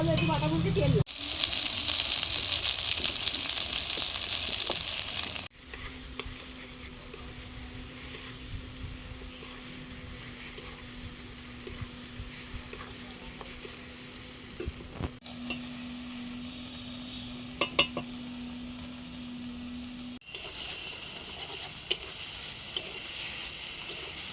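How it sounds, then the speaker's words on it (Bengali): Mustard flower paste fries in oil in a pan, a steady sizzle broken by scraping stirs, with a low hum in the middle stretch and voices faintly underneath. "এটা কি অনবরত নেড়েই যেতে হবে তেল লাগে তাই তো"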